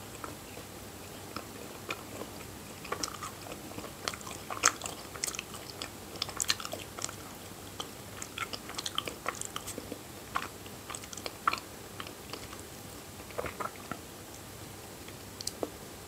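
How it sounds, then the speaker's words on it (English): A piece of dried fruit with the pit removed is bitten and then chewed. Faint, close crunches and wet clicks are scattered unevenly across a long stretch of quiet room tone, with no talking. "first biting, then chewing, then masticating, and then swallowing"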